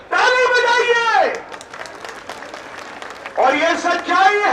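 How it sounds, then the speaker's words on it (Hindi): Crowd applause at a political protest speech attacking the Aam Aadmi Party, a dense clapping wash of about two seconds that swells in the middle, framed by a man's loud speech before and after. "ताली बजाइए।"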